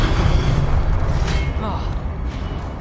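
A disarming spell cast in the Hogwarts Legacy video game lands as a loud, booming magical blast with a dull thud. Low rumble and crackle continue underneath for a few seconds.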